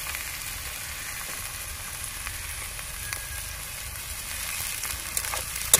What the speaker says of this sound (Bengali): আদা রসুন কাঁচা লঙ্কা দিয়ে আমি আবার এক মিনিট ভালো করে ভেজে নিয়েছি।